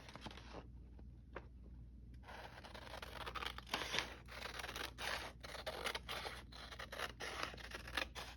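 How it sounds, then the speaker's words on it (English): Scissors snip through paper to trim off a border, with a quiet, close run of crisp cuts and rustling strokes in a hushed room. "I'm going to trim off this border"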